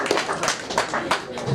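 Comedy club audience at a stand-up show clapping in a loose, uneven patter, with a few distinct claps standing out over faint crowd murmur.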